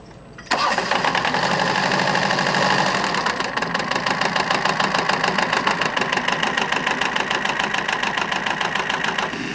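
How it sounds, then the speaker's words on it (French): An auxiliary engine driving an ISCO mower pulled by a pair of horses starts abruptly, then settles into a loud, close, steady rhythmic chugging with regular pulses. "L'ISCO, c'est une faucheuse tirée par une paire de chevaux et actionnée par un moteur auxiliaire."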